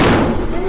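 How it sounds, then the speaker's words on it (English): A pressurized plastic soda bottle bursts in a loud, sharp blast, with the roar filling the whole short moment and decaying slightly toward the end. "And what was a plastic soda bottle is now a million pieces"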